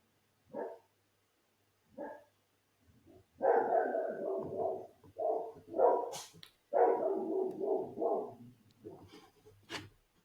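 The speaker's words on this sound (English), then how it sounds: "I'll just wait for that dog to stop." A neighbour's dog barks at a property where kangaroos roam, giving a string of sharp barks in short bursts and longer runs that sound fairly close and carry clearly through otherwise quiet surroundings.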